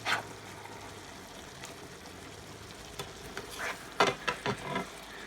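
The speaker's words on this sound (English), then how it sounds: "time to stir this stuff up one more time here. Just a little 180 flip on all this stuff." Chicken breast sautéed in a garlic onion marinade with asparagus and mushrooms, sizzling softly in a pan before being stirred and flipped, with a cluster of spatula scrapes and clatters toward the end.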